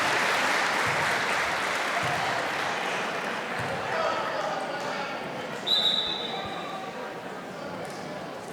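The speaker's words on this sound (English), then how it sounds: "the crowd claps as she's walking up under her own power." Crowd applause fills a gym at a North Penn girls basketball game against Spring-Ford, steady clapping throughout with a brief sharp whistle-like tone near the end and faint chatter underneath.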